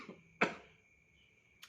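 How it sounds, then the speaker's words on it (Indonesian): A man gives a single sharp cough, close and brief, followed by a faint breath; a steady electronic whine runs underneath in an otherwise quiet room. "Maaf ya batuk."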